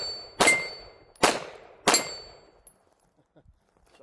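Three sharp metallic clangs ring out at an even pace as single-handed shots from a Sig Sauer SXG pistol strike a steel target at a distance, each followed by a brief ringing decay, then quiet.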